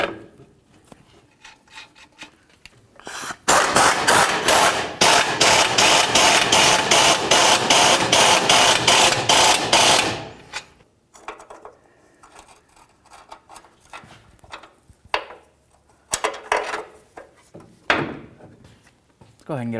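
Metal parts clank and scrape as a sway bar link is worked back into the front lower control arm of a 2007-17 Ford Expedition, with a long rattling, grinding stretch mid-clip and scattered knocks and clicks after.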